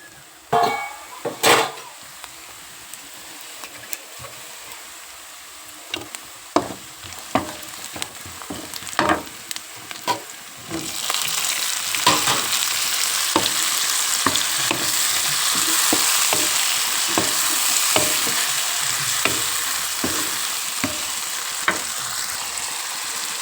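Tomatoes fry and sizzle in a pan for an egg curry, with repeated stirring scrapes throughout. The sizzle swells loud and steady midway, the scraping strokes keep a loose rhythm, and no one speaks.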